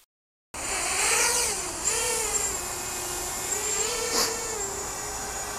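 A Holybro Kopis 1 racing drone gives a small, high-pitched multirotor whine that rises and falls in pitch as the motors spin up and throttle, steady and close, with no talking.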